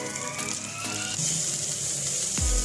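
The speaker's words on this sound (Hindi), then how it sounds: "इस तरीके से स्टर फ्राई कर लें।" Capsicum, onion and green chilies seasoned with black pepper and salt are stir-fried for chicken jalfrezi, producing a continuous bright hiss with a few metallic scrapes and a louder clunk at the end.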